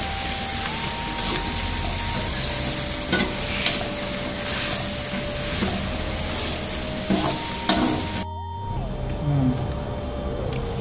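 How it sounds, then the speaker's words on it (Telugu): Onions frying in a pan for a cauliflower fry, a steady close sizzle with stirring scrapes and clinks throughout, a brief sharp pan clatter near the end, no talking. "ఆనియన్ గోల్డ్ కలర్ వచ్చే వరకు ఫ్రై చేసుకోవాలి."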